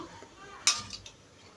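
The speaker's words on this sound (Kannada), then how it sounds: "4 ಸ್ಪೂನು ಎಣ್ಣೆಯನ್ನು ಹಾಕುತ್ತಿದ್ದೇನೆ" A spoon clinks against a cooking pot as oil is added for upma, with one bright, sharp metallic tap standing out over a faint, quiet background.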